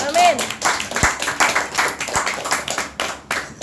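A church congregation claps in worship, a series of irregular hand claps rising and falling, with a voice and sung tone briefly heard at the start.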